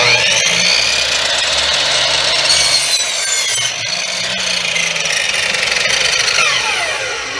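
A power saw cuts through wood for a St Patrick's Day craft tray, a loud continuous whining buzz with a shifting pitch as the blade bites, alone without speech.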